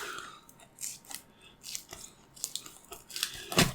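Knife slicing and scraping through a tightly glued cardboard coin package, a series of irregular close crunching and tearing strokes, loudest near the end.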